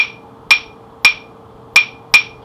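Claves knocked together over a cupped hand's resonating chamber produce four bright, hollow wooden clicks at uneven spacing, close and clear with no voices.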